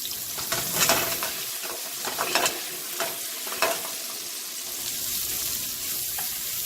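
Seasoned hamburger meat sizzles in a pan close by, with scraping stirs and clacks of a utensil breaking in over a continuous frying hiss.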